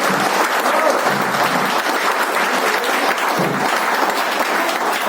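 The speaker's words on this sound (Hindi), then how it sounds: "ये हमारे मनीष सर के लिए एक बार जोरदार क्लैप हो जाए" A room full of people gives Manish sir a loud round of steady, dense clapping that continues throughout, close and uninterrupted.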